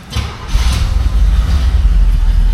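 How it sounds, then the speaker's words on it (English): A 1970 Chevrolet Chevelle with a 350 V8 fires up and settles into a loud, deep, steady idle with a lumpy rumble, close to the microphone. "Fire's right up. That 350 sounds good."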